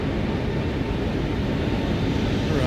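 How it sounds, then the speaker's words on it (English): Steady, loud broadband roar of a PMDG 777's thrust reversers in Microsoft Flight Simulator during landing rollout, a constant rushing engine noise with no pauses or voices. "Reversers deployed."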